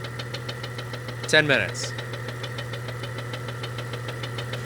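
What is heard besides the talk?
Jeep Cherokee 4.0 engine lifter ticking noise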